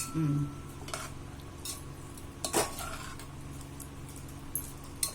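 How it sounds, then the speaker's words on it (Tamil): Brinjal pulao being stirred in a pot: a metal spoon scrapes and clinks against the pot in short separate bursts, close by, over a faint background hum with no talk. "வெயிட் போடாம அப்படியே கிளறி விட்டுக்கிட்டு 5 நிமிஷம்"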